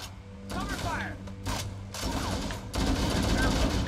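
Gunfire in Halo: Combat Evolved rattles out in loud, rapid automatic bursts with short breaks between volleys, backed by the game's mechanical clatter.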